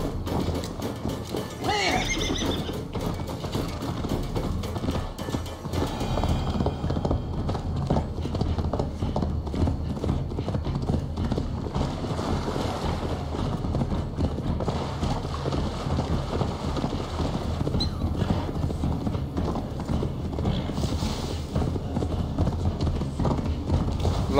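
A horse in the Assassin's Creed Valhalla video game gallops with steady, rapid clip-clopping hooves, neighs and whinnies near the start, over constant wind noise, loud and close throughout.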